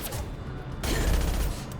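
Gunfire in the video game Mass Effect 2, a burst of heavy, booming shots with a dense rumbling low end that swells midway and stays loud to the end.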